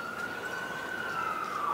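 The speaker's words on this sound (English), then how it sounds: "it's just an ambulance" Ambulance siren passing outdoors, a steady wailing tone that slowly falls in pitch, moderately loud and close against road noise.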